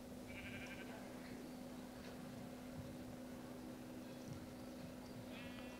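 Minecraft sheep bleat in the video game, two short nasal calls at the start and end over a steady electronic hum and background game noise.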